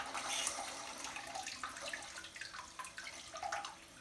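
A UFFU C200 electronic bidet starts up and sprays water, a quiet steady hiss of spray with faint gurgling, heard alone.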